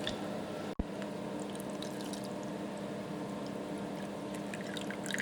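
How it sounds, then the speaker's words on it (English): Water poured into a cup of orange juice to top it up, a steady continuous pouring splash heard up close with no talk, a brief dropout near the start. "we're gonna fill it up with water to make a whole cup"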